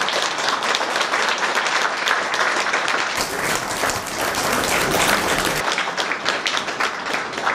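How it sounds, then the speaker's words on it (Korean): A hall audience claps for the candidates at the close of a Seoul theatre association election debate: loud, dense, sustained applause throughout, with no voices standing out. "큰 박수 부탁드립니다"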